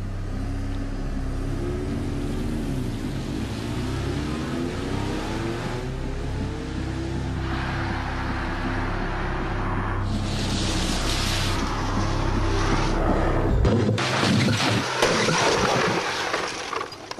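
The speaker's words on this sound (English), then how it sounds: "Another remote-controlled 3-star NCAP car, 70 miles an hour into concrete blocks." A remote-controlled three-star NCAP small car slams into concrete blocks at 70 mph, a loud sustained mechanical roar building toward a sharp, broadband crash near the end, followed by trailing clatter and debris noise.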